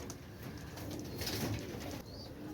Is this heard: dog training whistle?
no